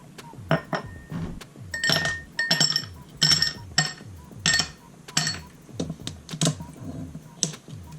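Ice cubes clinking into a glass for a strawberry margarita wine cocktail, a string of sharp, bright knocks and rattles arriving in uneven bursts, close and fairly loud, with no voices.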